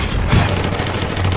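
Rapid gunfire bursts rattle loudly and continuously in an action scene from the 2005 film Alone in the Dark, a dense fusillade of overlapping shots.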